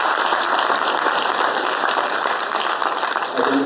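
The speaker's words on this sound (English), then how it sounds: "big round of applause to the entire management of IIM Amritsar" A summit audience at IIM Amritsar gives sustained applause, a dense and even rush of many hands clapping close by, with a voice faintly audible near the end.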